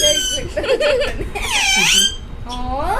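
Pet parrots squawk and screech loudly up close in sliding, whistling cries, with a person talking briefly among them.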